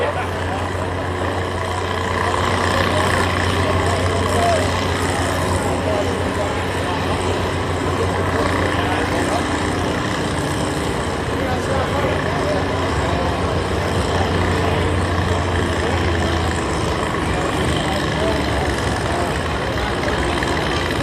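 A stock truck engine at a county fair truck and tractor pull rumbles steadily and loudly, a continuous low idle-like drone lasting throughout, with a voice talking over it.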